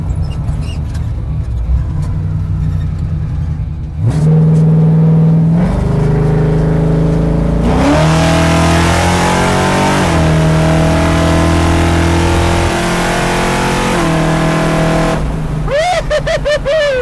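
A 1967 Mercury Cougar muscle car engine revs loudly nearby, its deep rumble climbing and falling through repeated throttle blips, ending in a rough, sputtering burst.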